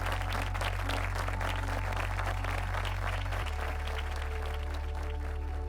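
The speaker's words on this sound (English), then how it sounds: "Let's hear your applause." Audience applause fills a convocation hall, steady clapping from a large crowd throughout, with a low constant hum underneath.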